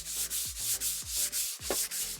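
Hand sanding an oiled wooden worktop along the grain between coats, a steady scratchy rubbing in repeated back-and-forth strokes, close and fairly loud, with no voices.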